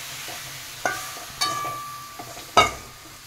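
Spoon stirring a coconut, peanut and milk mixture in a pan for narkel badam borfi, with a few soft scraping clinks and light sizzle, sparse and close, no talk.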